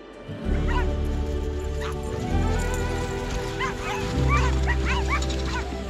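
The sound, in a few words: sled dogs barking and yipping in Norway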